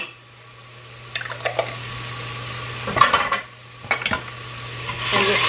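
A utensil stirs frozen chopped onions and already minced garlic in a pan, giving a few separate scraping clinks against the pan over a steady low hum, close and fairly quiet with no talking.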